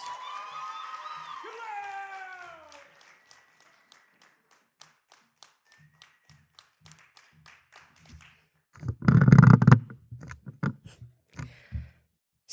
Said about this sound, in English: can we get a round of applause for Ben